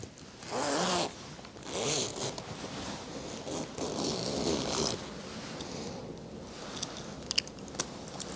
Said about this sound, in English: I'm gonna actually unzip.